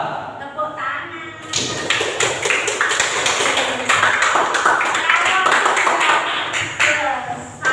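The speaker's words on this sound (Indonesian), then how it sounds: "Sudah. Tepuk tangan." A classroom of students claps hands together, a burst of brisk clapping starting after a teacher's brief speech and continuing for several seconds at close range.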